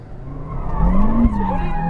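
A car drifting from a standstill on a race track, tires squealing loudly in a rising skid with engine revving beneath, close and continuous for under two seconds.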